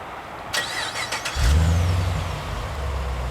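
Pontiac G8 GT fitted with Pypes Violator axle-back exhaust, straight pipes, Rotofab intake and VMS tune, firing up with a short starter whir and then settling into a loud, deep, rumbling idle close by.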